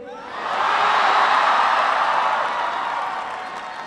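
University audience at a presidential speech in Michigan applauding and cheering, a broad wash of clapping that swells and holds, then slowly eases.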